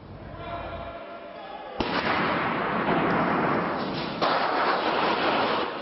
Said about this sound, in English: The sounds of gunfire filled the halls of Canada's Parliament building.